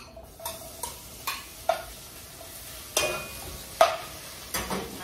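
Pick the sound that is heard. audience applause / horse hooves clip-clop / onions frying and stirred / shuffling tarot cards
onions frying and stirred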